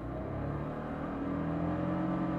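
A car engine revved toward 6000 rpm for a clutch-drop drift start on a mountain pass road, giving a sustained droning hum that climbs slightly in pitch over a couple of seconds.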